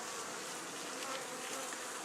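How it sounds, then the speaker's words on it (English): A soft, continuous buzzing of many honeybees close by around a hive during autumn varroa treatment, a faint humming swarm with no talking. "They were a bit pissy this morning, the bees, but they seem to have calmed down a little bit."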